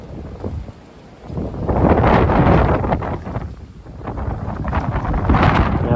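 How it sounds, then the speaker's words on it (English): Strong gusts from Storm Éowyn, up to 60 mph, roar and buffet the microphone in surging waves, rising and falling loudly over several seconds. "storm Éowyn has now arrived, so I am expecting gusts of up to 60 mile an hour"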